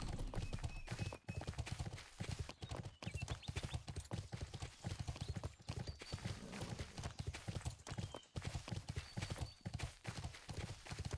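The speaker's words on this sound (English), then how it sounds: "Let's get a horse." Horse hooves clip-clop in the video game Bless, a quick, steady rhythm of close, loud hoofbeats that carries on unbroken for the whole stretch.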